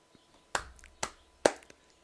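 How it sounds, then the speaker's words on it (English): Three sharp claps sound, spaced about half a second apart, crisp and fairly quiet against a faint background, with a couple of softer taps around them. "I'm clapping."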